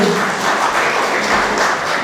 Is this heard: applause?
yes